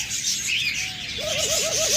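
Budgerigars and cockatiels kept as breeding pairs for sale chirp with a few quick, wavering whistled calls over a steady bed of bird chatter, fairly close and continuous.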